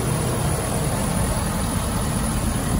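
A 2013 Ford F-250 Super Duty Lariat with the 6.7 liter Power Stroke V8 diesel idles close by, a loud, steady low rumble that holds evenly with no pauses and no talking.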